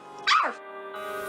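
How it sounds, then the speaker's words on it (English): A dog in a film scene gives one short, sharp bark that trails into a brief whine, set against a steady low background hum. "I'm sure you know why the barking dog is in the background."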